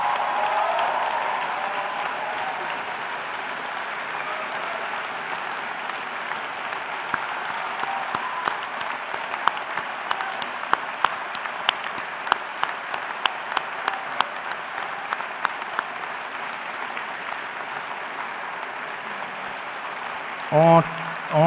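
A graduating medical class is applauded by the audience at a proclamation ceremony, sustained steady clapping that continues for about twenty seconds, with a voice over the public address at the very end.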